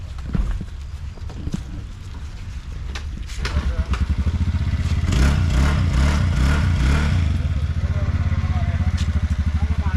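A rented scooter's engine starts after a few soft knocks and handling noises, then settles into a close, steady running note with rhythmic pulsing. A voice speaks briefly near the start.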